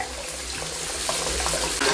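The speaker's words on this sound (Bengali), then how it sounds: "এই জন্য এই ঠান্ডা জলটা খোলা আছে।" Cold water runs steadily from a tap at close range, a continuous broadband splashing rush with no voices over it.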